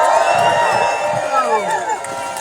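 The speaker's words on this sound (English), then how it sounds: "Wow, what a crowd" A large outdoor crowd cheers and whoops continuously at a writers' and actors' fair-contract rally in a New York City park, shouts and voices layered into a loud, sustained roar.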